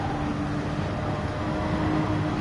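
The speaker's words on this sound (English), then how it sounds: "Yes, the familiar sound of the Boxster engine" A Porsche Boxster engine in Gran Turismo 7, racing on the Tokyo Expressway, holds a steady, droning hum at constant pitch, moderately loud with no voices.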